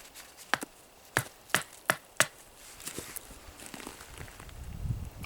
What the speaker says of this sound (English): So, batoning, this knife does great